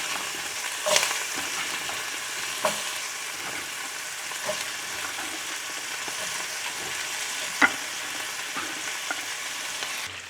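Peas stir-fried quickly in a pan with a pinch of sugar sizzle in a constant close hiss, with occasional sharp spatula clicks against the pan and no voices.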